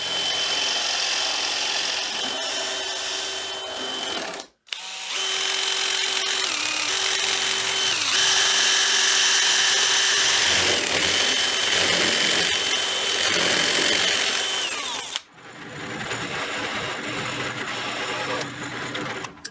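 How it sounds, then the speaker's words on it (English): A power drill bores a hole just over half an inch wide through an angled upright wooden piece for a speaker build, a loud, steady high whine that runs continuously, cut by two brief pauses. "The angled upright one is a little bit trickier to drill"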